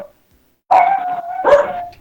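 A dog bursts into a drawn-out, whining bark after a moment of silence, then a second louder yowl follows, fairly close and with no talking over it.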